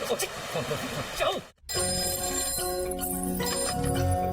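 A telephone rings in a Telugu film scene, a bright repeating electronic ring that starts after a short silence and continues steadily, with voices around it.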